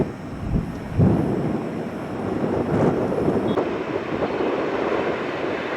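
An American Airlines Airbus A321 airliner rumbles at the airport, a steady broadband engine roar at moderate distance that holds for several seconds with no talk.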